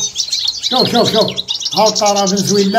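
A male Venezuelan finch paired with a female canary sings in a cage, bright rapid chirps and trills running continuously up close while someone talks over them.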